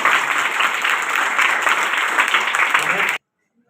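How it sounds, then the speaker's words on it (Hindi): Children at a certificate ceremony for a Mithila painting program clap loudly and continuously for about three seconds, a dense even patter that cuts off abruptly into silence. "बाकी सब बच्चे तालियां बजाओ।"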